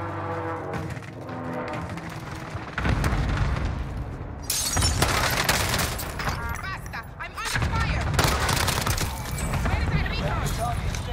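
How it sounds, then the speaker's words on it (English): Loud bursts of explosions and heavy gunfire from an enemy cluster strike in Call of Duty multiplayer, booming blasts arriving in several waves across the stretch, with a voice talking over the chaos. "Enemy cluster strike."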